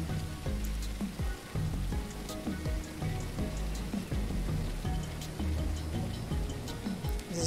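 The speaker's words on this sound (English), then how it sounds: "Rain." Steady rain pattering across surfaces in a video game's cave and waypoint landscape, a dense continuous patter with scattered ticking drops, no talking.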